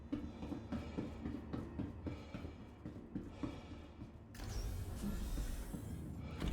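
Star Citizen metro train rumbling in a steady low roar with faint rhythmic clatter, growing louder and broader partway through as the ride continues, with no talking.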